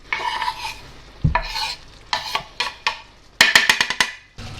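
A spoon scrapes and stirs mushroom sauce with parsley in a pan, with a series of clinks and soft sizzling, close up, in short irregular bursts.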